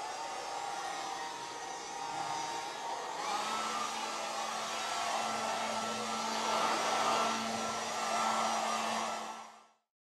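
A Lady Sunbeam Controlled Heat tabletop hair dryer with a plastic hose blows with a steady whirring hum, shifting pitch slightly partway through as the setting changes, then switching off at the end.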